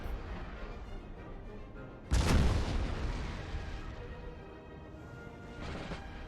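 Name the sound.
cannon fire in video game Napoleon Total War (modded)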